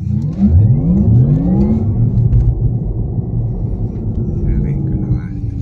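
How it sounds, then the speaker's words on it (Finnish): A Porsche Taycan launches from the start of stage one at the 1999 Pohjanmaa Rally, its loud engine note climbing steadily in pitch as it pulls away, then holding a sustained roar. "Katsotaan kuinka Porsche kiihtyy."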